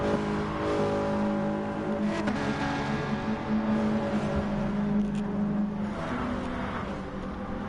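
Touring race cars circling the Tokyo track in a racing video game, engines droning and revving loudly and continuously, with gear shifts and cars passing close by.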